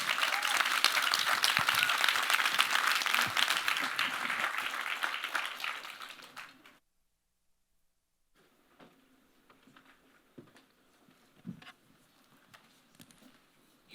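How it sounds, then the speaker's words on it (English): Loud applause from a summit audience for a panel fills the first several seconds, fades out into silence, then scattered faint claps and small noises follow. "please give a big round of applause to our panelists"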